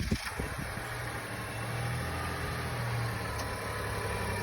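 A 2022 Nissan Rogue SV with the VC turbo engine idling after remote start, a steady low engine hum heard outdoors at moderate distance with a faint click near the start.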